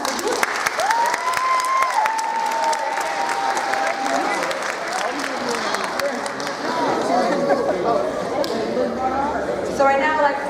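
Pep rally crowd at Mumford High School applauding and cheering steadily throughout, a dense wash of clapping mixed with scattered voices, whistles and chatter from a large gathering.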